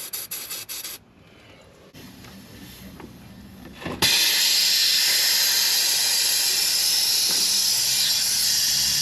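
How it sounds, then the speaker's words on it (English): Aerosol lubricant sprays onto a worn front air strut of an L322 Range Rover, first in short spurts and then in one long loud continuous hiss close by. "spray a bit of this on it so it can move"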